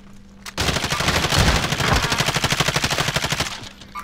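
Rapid automatic gunfire from two guns in a video game, a loud dense burst of shots lasting about three seconds with a steady rattling rhythm.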